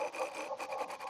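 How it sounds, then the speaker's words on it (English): A 3/8 spindle gouge cuts a segmented wooden birdhouse spinning on a lathe, producing a steady, close, pulsing scraping hiss over about a second. "Here I'm using a 3/8"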